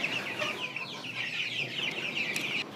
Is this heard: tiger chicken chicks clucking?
yes